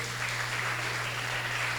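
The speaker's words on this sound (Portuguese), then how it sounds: "Você pode dar uma glória a Deus e aplaudir Jesus bem forte" A church congregation applauds loudly and steadily, a dense wash of clapping that fills the room for a couple of seconds beneath a low steady hum.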